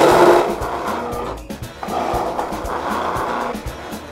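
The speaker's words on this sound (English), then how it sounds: "Ann's electric grater that'll grate Yautia fast and easy for you" An electric grater shreds about 3 pounds of peeled yautia with a steady, coarse mechanical grinding and chunky rumble, briefly dipping near the middle before it resumes at an even level.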